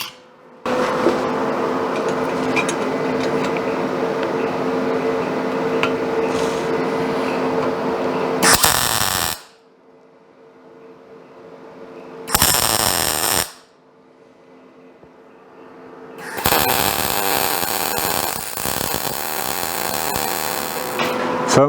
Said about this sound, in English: So I'm only welding 1 inch at a time